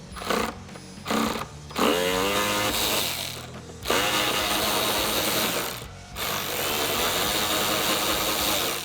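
A ratchet turns a T25 Torx bit on the screws of a Morimoto XB LED tail light fitted to a 2014-2018 Chevrolet Silverado 1500, giving loud, busy mechanical clicking in several bursts with short pauses between them and no talk.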